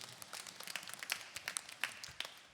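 Scattered clapping from a church congregation during a Sunday service, a faint, uneven patter of individual claps lasting a couple of seconds.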